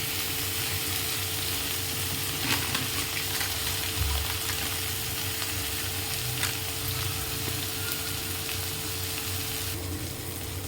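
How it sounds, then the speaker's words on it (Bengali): Ginger paste frying with cumin and coriander powder in a pan for a Bengali doi katla, a steady soft sizzle with occasional stirring scrapes and no voices. "এটাকে ভালো করে আমরা কষিয়ে নেব।"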